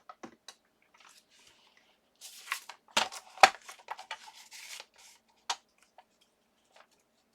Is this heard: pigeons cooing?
no